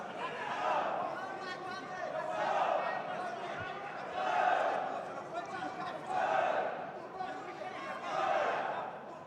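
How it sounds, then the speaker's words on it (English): Spectators at a Russian vs Brazilian MMA fight, some supporters in national costumes, cheer and chatter as one dense, steady crowd roar that swells in waves throughout. "you hear the crowd, you hear the spectators and the supporters who are wearing the national costumes"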